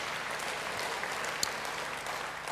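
Church congregation applauding continuously during a sermon, a dense steady wash of many hands clapping at moderate level, with no talk over it.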